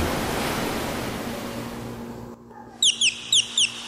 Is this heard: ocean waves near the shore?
yes